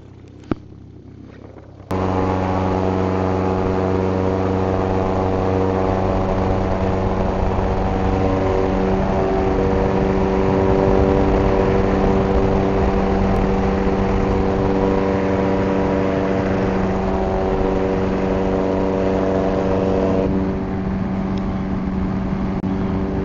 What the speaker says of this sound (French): On y va pour le décollage.